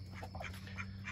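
Several ducks quacking in a backyard alongside chickens, a rooster and a pig, with short nasal calls repeating at a moderate distance over a steady low hum.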